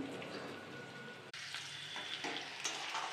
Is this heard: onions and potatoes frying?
yes